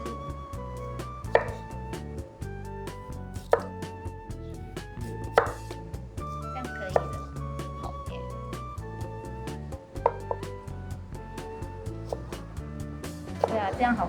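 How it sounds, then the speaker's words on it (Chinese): A kitchen knife slices a radish and then shreds it into strips on a board, sharp chops recurring steadily and close throughout, over a bed of sustained music. "我可以帮忙你切这个萝卜吗？ 切片，再切丝。"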